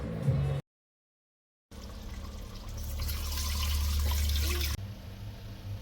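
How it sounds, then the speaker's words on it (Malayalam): Water pours steadily into a pressure cooker for a few seconds, a rising gushing splash after a brief silence, with kitchen background noise around it. "ഇനി നമുക്ക് ഇതിലേക്ക് വെള്ളം ഒഴിച്ചു കൊടുക്കാം."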